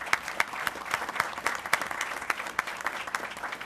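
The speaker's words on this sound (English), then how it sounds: "And let's give them all a big round of applause," A meeting audience gives a round of applause: dense, steady clapping from a room full of people that continues throughout at moderate loudness, with no talk over it.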